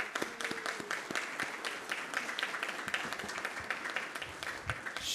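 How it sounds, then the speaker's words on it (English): A board of education meeting audience applauds a retiring staff member with dense, steady clapping that fills the room evenly for several seconds, with faint voices murmuring underneath. "we might want to give her a round of applause just for that."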